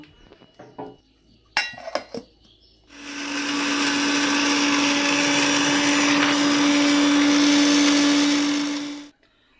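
A blender grinds soaked chillies into a paste in one loud, steady whir lasting about six seconds, with a few clinks and taps of handling before it starts.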